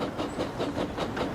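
Animated train rolling along tracks, a steady rhythmic clickety-clack of wheels over rail joints, close and continuous with a faint hiss.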